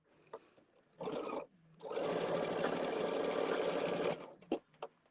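A domestic sewing machine chain-sews quilt blocks, one stitching a short burst and then a longer steady whirring run of rapid needle chatter, nearby, with small clicks and handling noises around them.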